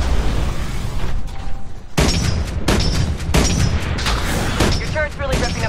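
Mortar titans firing in Titanfall's Frontier Defense mode on Xbox 360: a dense, loud barrage of booming blasts and bursts, with several sharp heavy impacts cutting in over a continuous rumble of battle noise.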